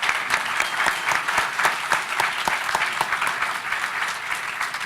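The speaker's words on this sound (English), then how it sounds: "Let's give our panelists a big round of applause" Sustained, enthusiastic audience applause after a panel discussion on depression, a thick steady wash of many hands clapping at close range for several seconds with no voices.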